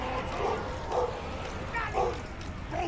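Dog in a Total War: Warhammer II strategy game giving a few short, yipping barks spaced about half a second apart, fairly faint over a soft background.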